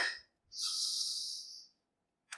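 A person inhales audibly through the nose during a vinyasa yoga flow, one steady airy breath lasting about a second, close and fairly loud, with quiet before it and a brief rustle after.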